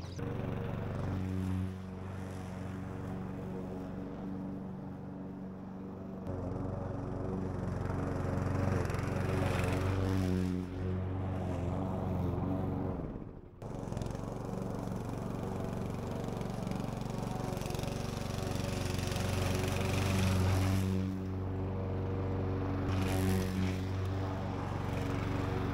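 A Fieldmann FZR 5112-196BL petrol lawn mower with a 4 kW engine and 51 cm cutting width mowing grass, a steady droning motor hum that swells and dips slightly as it moves, continuous and close.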